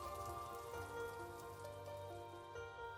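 Steady rain falls and patters on a surface for the full stretch, a continuous close wash of drops with no voices over it.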